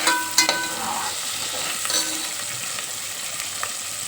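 Onion, tomato and green chilli frying in hot oil for a vegetable biryani, a steady close hiss of sizzling with a few light scrapes and clinks of stirring, no talk.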